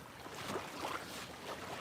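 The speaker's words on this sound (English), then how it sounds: "Boat just went by. Sorry about the water noise." Soft, steady water sloshing and lapping close by from a passing boat's wake rocking a kayak on a lake, a broad wash of splashing without voices.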